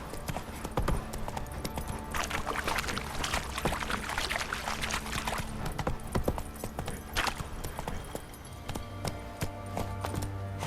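Hooves of the horse Roach trotting in The Witcher 3 video game, a continuous clip-clop rhythm under game ambience and a low rumble.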